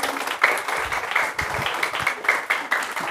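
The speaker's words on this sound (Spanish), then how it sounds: "vamos a darles un aplauso" Children in a church seminar clapping, an uneven patter of small hands with distinct sharp claps scattered through a few seconds, fairly close and without talk.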